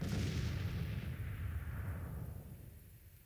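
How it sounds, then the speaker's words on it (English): Cannon artillery fire in the Civil War strategy game Grand Tactician: The Civil War, a loud, deep rumbling barrage of booming shots that gradually fades over about three seconds; no speech. "My cannons should start opening fire."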